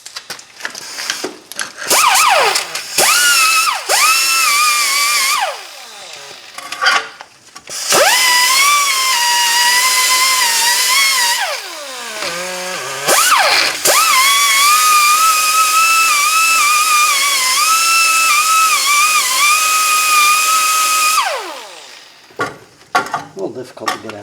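A power sanding disc works a corroded front brake part on a 2008 Hyundai Elantra, giving a loud, sustained whine whose pitch dips and rises as the disc bites, broken by short pauses.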